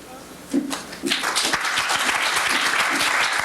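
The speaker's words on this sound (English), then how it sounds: "please applaud if you like the student tricks best" Audience applause at a medical school first-year class play, starting with a few scattered claps and then swelling into steady clapping that fills the rest of the moment, with a voice briefly heard near the start.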